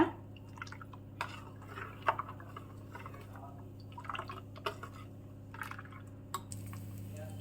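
Water is added and mixed with ginger and salt for a Malenadu summer ginger dish, making faint, close drips, small pouring splashes and soft squishy stirring sounds against a quiet background.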